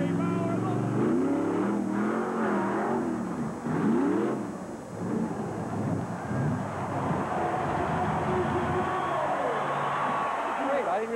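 A Bigfoot monster truck engine roars and revs loudly throughout, with rising and falling pitch sweeps like throttle blips. Its steady, heavy drone stays close and dominant, with a voice talking over parts of it.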